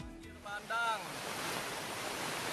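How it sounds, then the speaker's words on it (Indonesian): Flash flood water from the overflowing Cibuntu River rushes in a loud, steady roar that fills the whole clip, with a brief tonal whine near the start and no speech. "Rekaman video amatir warga ini memperlihatkan detik-detik terjangan banjir bandang akibat meluapnya Sungai Cibuntu"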